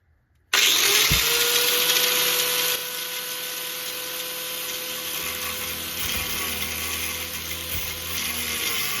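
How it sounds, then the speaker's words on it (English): An angle grinder fitted with an older cutoff blade cuts an edge off, starting abruptly into a loud, continuous high whine and rasp that holds steady, easing slightly in level partway through. "angle grinder with an older cutoff blade on it. And all I'm going to do is cut this edge off"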